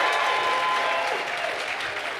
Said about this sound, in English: I want to give you a big, big round of applause